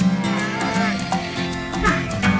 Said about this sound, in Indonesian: Saatnya memulangkan kerbau ke kandang.